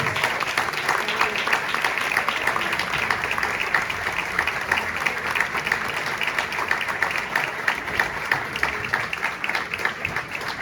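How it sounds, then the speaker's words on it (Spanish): An audience at a book presentation gives the author a steady, even round of applause, dense clapping held at moderate distance throughout with no break. "Le brindamos un fuerte aplauso a nuestra autora."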